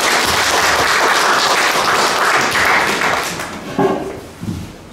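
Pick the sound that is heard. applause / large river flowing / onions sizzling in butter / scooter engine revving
applause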